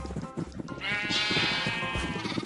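Sheep in the Minecraft video game bleat over and over, with one long, wavering bleat in the middle. The sound is close and fairly loud against the game's background sounds.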